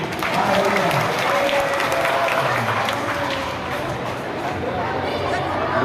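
An audience inside a mosque during a religious sermon breaks into sustained clapping, a dense crowd of many hands applauding steadily for several seconds with murmuring voices underneath.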